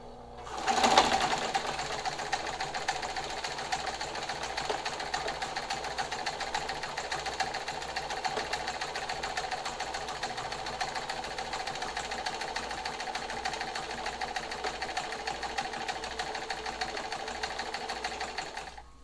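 A sewing machine stitches a wide zigzag row during a sewing-off test, running with a steady, even mechanical whir and rapid needle rhythm for the whole stretch after a brief start-up, close and alone without talk.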